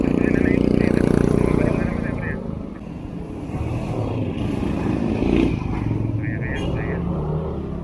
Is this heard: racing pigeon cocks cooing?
no